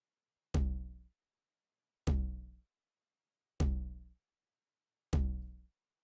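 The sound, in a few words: tom drum sample from a 909 kit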